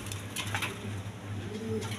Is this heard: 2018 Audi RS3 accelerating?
no